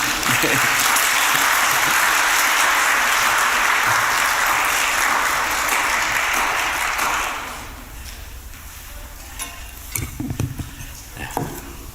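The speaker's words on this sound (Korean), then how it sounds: "우리 박수로 맞이했으면 좋겠습니다" A church congregation applauds to welcome the preacher at a Christmas Sunday service: loud, dense clapping for about seven seconds that fades out, followed by quieter room sounds and a few stray knocks.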